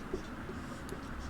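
Pen writing an answer word on paper, a faint scratchy stroke sequence under quiet room hiss, brief and close.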